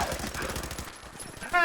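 Rapid automatic turret gunfire rattles in a Fallout game, a steady stream of close, punchy shots that thins out briefly before a final louder burst.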